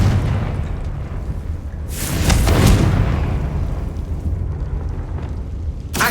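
A Confringo blasting spell going off in Hogwarts Legacy, one big booming explosion swelling near the middle over a rumbling game background, with a smaller burst at the very end.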